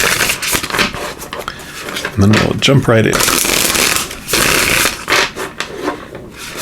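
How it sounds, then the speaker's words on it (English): Oracle cards are shuffled by hand in repeated bursts of riffling and rubbing, close and crisp, with a voice talking briefly between shuffles. "So we'll give these a good shuffle."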